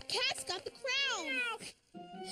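A cartoon cat gives one drawn-out, bending meow, set between brief animated voices and other chatter.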